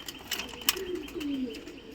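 Low, soft coos from adult pigeons roll out in two drawn-out phrases, with a few light clicks and rustles nearby.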